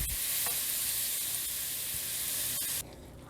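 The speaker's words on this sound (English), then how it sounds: "Now add the butter and let that melt." Butter melting in a pan that was used just before, giving a steady, fairly loud broadband sizzle that runs evenly for nearly three seconds and then drops abruptly to a quieter hiss, with no talking.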